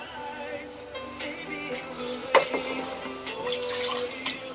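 Water trickles and drips unevenly from a clay fermenting crock being drained, with a brief louder splash midway, over a faint background murmur.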